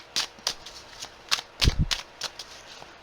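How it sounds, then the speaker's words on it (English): Tarot cards are shuffled and laid down on a surface in a series of crisp riffles and soft slaps, close and fairly loud, irregular in rhythm, with no talking. "scroll past all this shuffling and card putting down"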